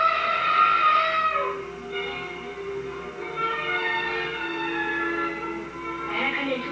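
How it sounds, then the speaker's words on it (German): A train travels along with a rolling rumble, and tonal horn-like sounds rise and fade at moderate distance, beginning loud and then settling into a steadier ride. "Wir reisen mit dem Zug hinterher."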